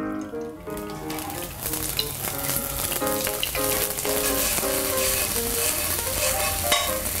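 Roasted anchovies stir-frying in about four tablespoons of hot grapeseed oil, a continuous crackling sizzle with scattered pops and clattering stirs, while a melodic music track with distinct notes plays throughout.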